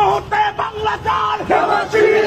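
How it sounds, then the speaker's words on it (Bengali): A protest crowd in Chattogram chants political slogans in loud, rhythmic unison, the voices rising and falling together in repeated short phrases, close and continuous. "তারা কি স্লোগান দিচ্ছে দেখুন"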